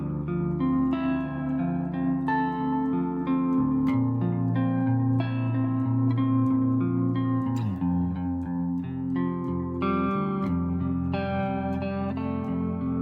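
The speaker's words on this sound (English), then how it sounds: "a reverb, not a hall, an ambience, but it is 6 seconds long" An electric guitar played through a Boss GX-10 with a six-second ambience reverb, sustained chords and melodic notes ringing out with long, washing decay, loud and continuous with no talking.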